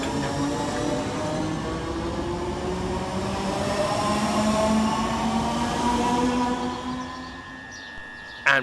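Southern class 313 electric unit 313207 on a Littlehampton to Brighton service at Angmering station, a sustained loud motor whine and rumble with tonal hum, easing off near the end with a brief squeal.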